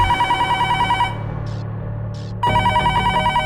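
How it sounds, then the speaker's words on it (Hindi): A telephone rings loudly and close by, a sustained electronic trill that pauses briefly before ringing again. "कहीं पुलिस स्टेशन से ना फोन आया हो, राधिका का पता चला हो तो?"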